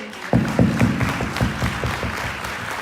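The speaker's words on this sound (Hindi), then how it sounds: "जोरदार ताली होनी चाहिए" An audience at a network marketing workshop on a large stage breaks into loud, sustained clapping, dense and close, with a faint voice briefly underneath.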